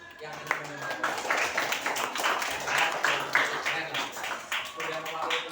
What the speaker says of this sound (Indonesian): coba tepuk tangan untuk yang menjawab